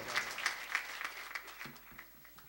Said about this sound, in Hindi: सुनील के लिए जोरदार तालियां बजा दें।